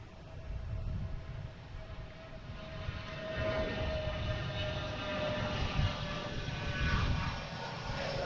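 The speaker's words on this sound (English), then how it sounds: "We have Delta coming in from Baltimore, Washington in E175" A Delta Embraer E175 jet arriving at Boston Logan from Baltimore Washington, its engine roar and tonal whine building and swelling, moderately near.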